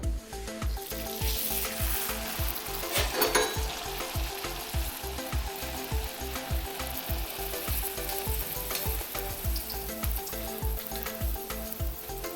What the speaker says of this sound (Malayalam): ഇനി എണ്ണ ഒന്ന് തിളച്ച ശേഷം നമുക്ക് ഓരോ പൂരിയായിട്ട് പൊരിച്ചെടുക്കാം.